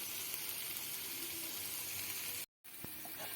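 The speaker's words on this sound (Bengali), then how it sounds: "এটা একটু সময় ধরে নাড়াচাড়া করে নিতে হবে, ভালো করে একটু ভাজা ভাজা করে" Potato peel paste frying in a pan on a very low flame, a close, steady hiss and sizzle that breaks off briefly and then resumes, with a small clink near the end and no speech.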